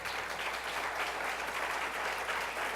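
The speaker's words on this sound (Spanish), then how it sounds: "recordando nombres como Rubén Darío Carles, para quien pido un fuerte aplauso" A conference audience applauds, a dense, even wash of many hands clapping at close range, steady and sustained with no break.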